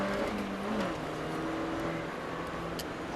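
A race car engine drones steadily as the car drives at speed on a race track, its pitch shifting with gear and throttle changes, with no talking.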